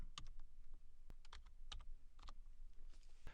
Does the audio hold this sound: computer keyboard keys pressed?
yes